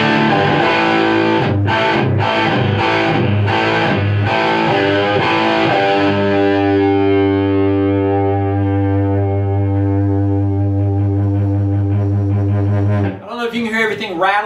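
Electric guitar played through a Megatone Vostok amp with the gain turned from 8 to 10: loud, heavily distorted chords, a few choppy strums, then a long sustained ringing chord that cuts off into brief noise at the end.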